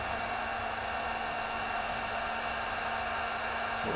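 A cheap Harbor Freight heat gun blows hot air across epoxy resin on a countertop, making a constant, close, airy whoosh with no change and no talking.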